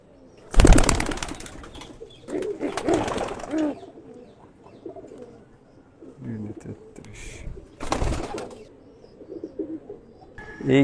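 Male racing pigeons in a loft during the moulting season, with bursts of wing flapping and low cooing calls coming and going, fairly close, with quieter shuffling between the louder moments.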